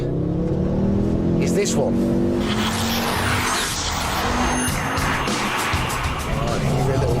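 A Ford Focus RS accelerates and corners hard, its engine revving with rising pitch and tyres squealing, while someone talks over it from inside the car.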